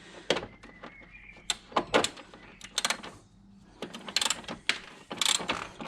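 Torx bolts being undone on the fan shroud of a BMW E90 3 Series, with a close ratchet clicking in quick bursts, separated by pauses and small metallic handling knocks and scrapes.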